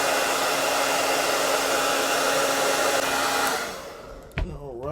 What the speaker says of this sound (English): put it with the hair dryer